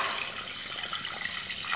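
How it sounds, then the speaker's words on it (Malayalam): Water poured into a pot of river fish curry, a steady splashing pour lasting a couple of seconds, close and moderately loud with no voices. "നമുക്ക് ചാറിന് വേണ്ടി കുറച്ചുകൂടി വെള്ളം ഒഴിച്ചു കൊടുക്കണം"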